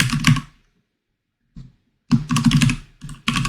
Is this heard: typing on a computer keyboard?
yes